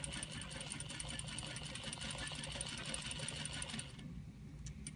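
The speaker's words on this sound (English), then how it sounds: "Top stitch that little bit of the extension" A sewing machine top stitches a kick pleat extension in a steady, close whirring run that drops off near the end into quieter room tone.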